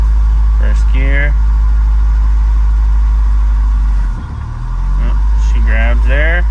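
A Honda Integra B-series engine idles loudly and steadily under talk, with a brief dip in its drone as it is shifted into gear during a transmission check.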